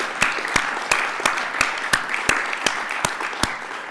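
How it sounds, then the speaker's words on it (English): An audience at a theater season announcement applauds, with a few loud, sharp claps landing in an even rhythm about three times a second above a softer, continuous bed of crowd clapping. "Yes, let's clap."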